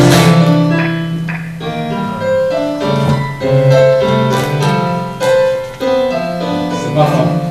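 Music generated by a classic recurrent neural network plays as shifting clusters of overlapping tones that change irregularly, moderately loud and unaccompanied by speech.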